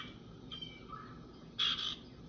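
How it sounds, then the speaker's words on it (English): A female cardinal gives a few short, bright squawking calls outdoors in spring, faint at first and then one louder, closer burst near the end over quiet background hiss. "Oh, there's the female cardinal."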